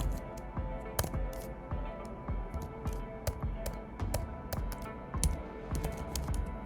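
Fingers type a company name on a computer keyboard, a steady run of quick, close key clicks with irregular rhythm and occasional heavier strokes, no voices.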